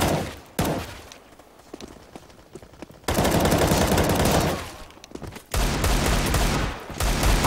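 Gunfire in the Counter-Strike: Global Offensive game comes as loud, sustained volleys of rapid shots, with quieter stretches of scattered single shots between them.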